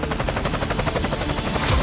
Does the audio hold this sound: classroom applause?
no